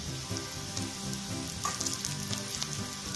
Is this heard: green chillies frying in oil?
yes